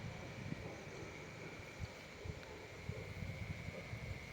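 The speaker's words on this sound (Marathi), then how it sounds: "हवा पण सुटली आणि थंडी वाजते इथे" Steady wind blowing through a hillside village during the monsoon, a soft continuous rush with faint gusty buffeting and low rumble, fairly quiet and even throughout.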